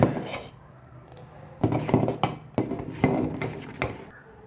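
A utensil stirs urad dal porridge in a cooking pot, producing a string of close, sharp scraping knocks against the metal at an uneven rhythm, with no talking.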